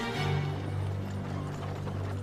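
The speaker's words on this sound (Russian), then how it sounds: "смотри, лошадь обгоняет" Horse hooves clip-clop at a gallop in a fantasy series, steady and moderately quiet under a low background hum.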